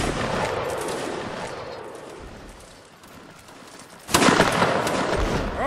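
Musket fire crackles through a regimental battle in a video game, with a steady patter of distant shots swelling into a louder, dense volley near the end.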